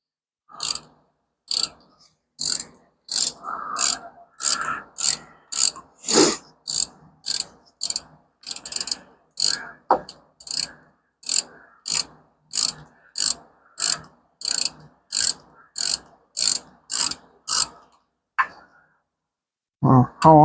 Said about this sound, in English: let's pull out the top center bolt